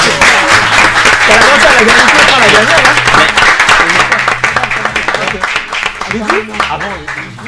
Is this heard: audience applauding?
yes